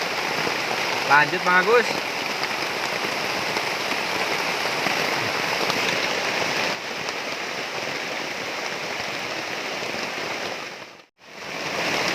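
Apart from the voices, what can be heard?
heavy rain in the forest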